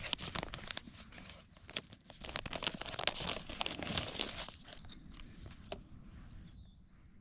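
Crinkling and tearing of plastic packaging as a chatterbait fishing lure is opened, steady close rustling and crunching for several seconds, easing off near the end.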